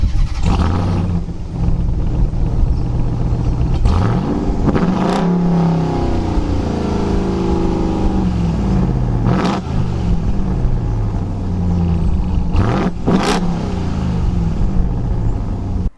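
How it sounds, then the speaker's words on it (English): A RAM 1500 TRX pickup truck with push-button start fires up and revs its exhaust, loud close engine roars rising and falling repeatedly, with several sharp bursts and a low idle between them. "Now that's a good sounding exhaust note"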